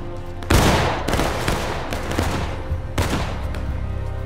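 Musket volleys crack out in the Civil War video game War of Rights, with two loud ragged fusillades of many rifles firing almost together, then scattered shots and rumbling echoes trailing between them.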